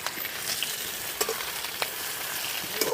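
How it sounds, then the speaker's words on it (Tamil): Chopped onions and green chillies sautéing in a pan for village-style samosa filling, giving a steady close sizzle with occasional stirring clicks and scrapes, no voices. "பச்சை மிளகாய் வெங்காயமும் நல்லா வதக்கணும்"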